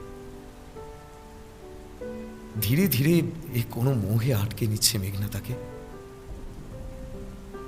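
Rain from a storm scene in an audio drama patters steadily in the background, then continues under a voice speaking in the middle.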